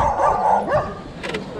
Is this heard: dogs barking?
yes